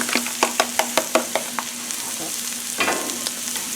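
Three whipped eggs spread across a hot Blackstone griddle outdoors, sizzling steadily while a spatula taps and scrapes the surface in a quick run of sharp clicks, then a few more scrapes near the end.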